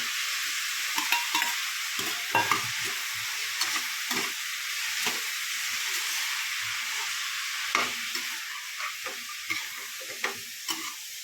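Chopped radish and radish leaves fry in a pan, with a steady loud sizzle broken by repeated clinks and scrapes of stirring.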